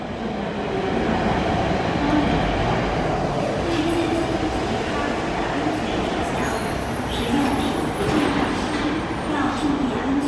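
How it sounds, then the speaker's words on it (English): An MTR train arrives at the Sha Tin Station platform with a loud, steady rumble and rolling rail noise, while a voice speaks over it. "A train to Admiralty is arriving."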